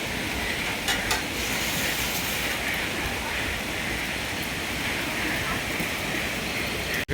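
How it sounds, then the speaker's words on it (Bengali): Rain falling steadily outdoors during Cyclone Remal, a dense, even hiss of drops on surfaces throughout, with a few faint knocks early on. "বৃষ্টি তো নামতে আছে"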